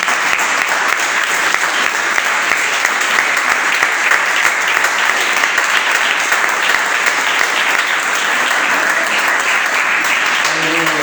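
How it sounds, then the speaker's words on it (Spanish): A church congregation bursts into loud, dense applause for the Lord, a sustained roar of many hands clapping without a break, with voices mixed in beneath it. "le vamos a dar un aplauso al Señor"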